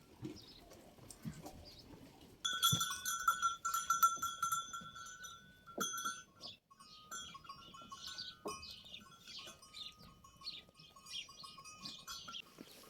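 Several sheep and lambs bleat close by in a village in Sinop, Turkey, overlapping high calls in bursts, with a bell clinking now and then among the flock.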